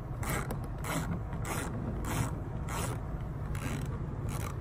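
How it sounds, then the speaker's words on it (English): A socket wrench tightening a bolt during a boat fin kit install makes repeated ratcheting clicks in short bursts, close and moderately loud over a low background hum, with no talking. "Always make sure your socket's in tighten mode when tightening."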